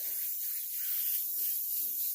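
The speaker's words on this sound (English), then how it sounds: "So then I'm going to go over it with a Fire Orange candy." An airbrush sprays Fire Orange candy paint over a tumbler, giving a steady, close, bright hiss that holds evenly and softly swells and dips without a pause.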